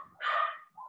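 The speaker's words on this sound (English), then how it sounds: "Please excuse my dogs." Several dogs bark in a single loud burst, followed by a softer yip, with no speech over it.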